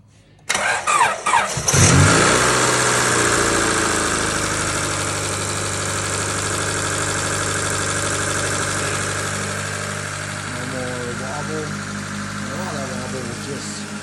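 A Honda Civic engine, just refitted with a new crank pulley and woodruff pin, cranks and catches after a few bursts, then settles into a loud, steady idle close by with no talk over it.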